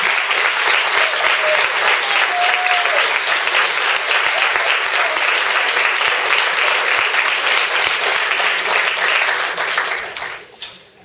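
Sustained, loud applause from an indoor audience honoring the 2012 mentor of the year, steady clapping for about ten seconds before tapering off abruptly at the end.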